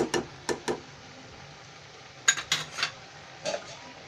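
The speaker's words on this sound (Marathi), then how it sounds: "आता मी थोडंसं झाकण ठेवते" A lid set on a pan of simmering ghevda bhaji: sharp metallic clinks and rattles in short clusters, close by, separated by quiet gaps with a faint low hum underneath.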